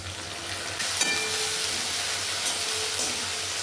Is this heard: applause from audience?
no